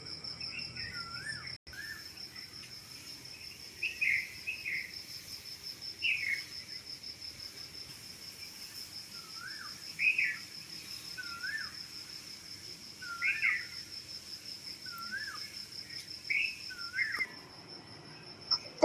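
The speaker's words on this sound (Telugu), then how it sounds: "పక్షుల కిలకల రావాలు చాలా బాగా వినిపిస్తూ ఉంటాయండి" Early-morning birdsong outdoors: short chirping phrases repeat every few seconds over a constant high insect trill, soft and fairly distant in a calm setting.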